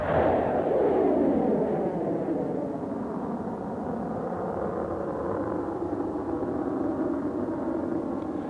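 A solid propellant rocket launches after a countdown, a steady, loud rumbling roar that holds through the whole stretch with a broad low-frequency body and a slowly shifting tone, with no voices.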